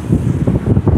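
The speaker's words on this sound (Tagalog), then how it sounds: "Sarap ng hangin" A steady sea breeze rushes over the microphone by the shore, a close, full rumble of wind noise with gusty pulses and no talking.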